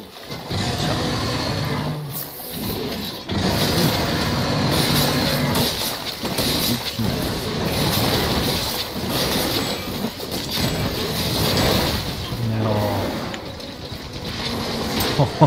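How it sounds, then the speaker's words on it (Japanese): A train rumbles past nearby, loud and sustained, with rattling wheels, clickety-clack rhythm and brief metallic squeals rising and falling over about fifteen seconds. "激しいね、電車が。"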